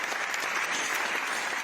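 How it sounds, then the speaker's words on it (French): A large crowd at the inauguration of the PSG campus applauds players and coach with loud, dense, continuous clapping. It stays even and close throughout the short stretch. "vous pouvez applaudir, je vous en prie."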